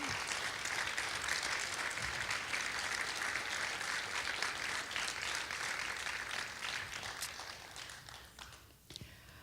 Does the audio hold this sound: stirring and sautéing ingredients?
no